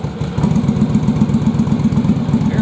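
A Yamaha Virago motorcycle engine idles roughly while firing on only one cylinder, a loud, close, uneven low thumping pulse that runs steadily throughout.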